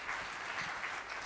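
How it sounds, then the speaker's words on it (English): Brief, steady applause from an audience at a book launch, a soft, even patter of many hands heard alone. "Round of applause, please."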